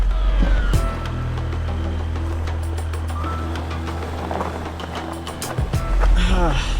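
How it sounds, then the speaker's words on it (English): A deep, steady diesel truck engine rumbles at low revs in first gear throughout, with a rise in the engine near the end and no clear speech. "First gear, listen to this diesel purr."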